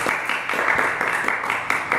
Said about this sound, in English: Clap, guys.